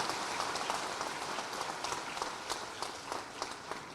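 Audience applause from a crowd at a Makar Sankranti public event, a steady, fairly distant wash of clapping that holds evenly throughout.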